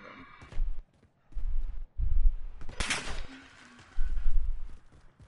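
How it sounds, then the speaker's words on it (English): Gunfire in the Call of Duty video game, a few sharp shots with one loud crack near the middle, mixed among footsteps and thumps of movement. "I was like, there's somebody shooting."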